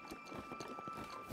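Horse hooves clip-clop at a steady walking rhythm in the game Zelda: Breath of the Wild, faint and close, mixed with soft game ambience and no talk.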